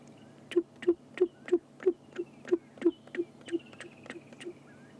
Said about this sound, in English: The bird that you can hear is, I don't know if you can hear it in the background calling.